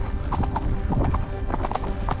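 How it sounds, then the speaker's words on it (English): Hooves clip-clop in a steady, close rhythm as a horse carries a rider through the countryside in an AI-generated scene, the footfalls loud and continuous with faint ambient noise beneath. "POV of a man on a horse riding through the countryside"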